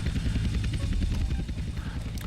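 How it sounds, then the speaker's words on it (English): Helicopter rotor and engine noise in GTA San Andreas, a steady loud chopping drone with low thumping throughout, mixed with game sounds during desert missions. "But there are more helicopters on the way, it seems."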